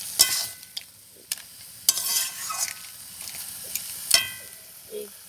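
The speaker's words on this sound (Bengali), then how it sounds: "কাঁকড়াটা দিয়ে দিচ্ছে। আস্তে আস্তে নেড়ে চেড়ে" Crab stirred in a pan with taro leaves and potato, a spoon scraping in a few sharp bursts over a soft steady sizzle, close and fairly quiet, no voices.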